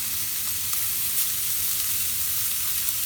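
Bacon frying in a hot iron pan, a steady close hiss and crackle of sizzling fat running evenly throughout with no talk.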